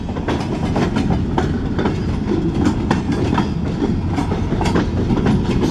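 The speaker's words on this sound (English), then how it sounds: "It's not a very long train." A short freight train of empty log cars, Escanaba and Lake Superior Railroad locomotive 402, rolls steadily past close by, wheels clattering over rail joints in a continuous rhythmic clack, with no voices.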